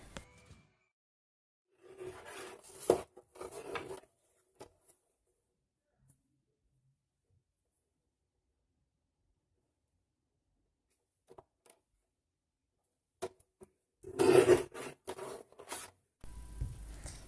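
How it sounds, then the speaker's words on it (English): Scraping and slicing sounds of a paper trimmer cutting paper come in short bursts close by, separated by long silent gaps. "I really like the sound that the paper cutter makes"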